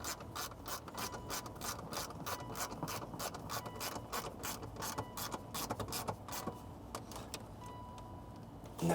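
A hand ratchet tightens the shock absorber nuts during a car suspension upgrade. It makes a steady, rapid run of close clicking strokes that continues for several seconds, and no voices can be heard.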